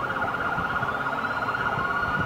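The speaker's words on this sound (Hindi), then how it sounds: "ये पुलिस की सायरन जब बजती है" A continuous wailing police siren in a police car driving simulator game rises and falls in repeated sweeps, loud and steady throughout, with no voices.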